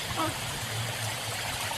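River water with mossy stones flows steadily and close in Hong Kong, a constant rushing wash with no breaks.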